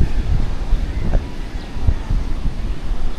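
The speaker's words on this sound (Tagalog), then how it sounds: "Lakas pa rin ang hangin" Strong typhoon wind from Typhoon Uwan buffets the microphone in Dinahican, Infanta, Quezon, a steady loud roaring rush with low gusty thumps throughout.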